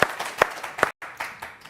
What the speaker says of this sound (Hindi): इनके लिए एक ताली होनी चाहिए मेरी तरफ से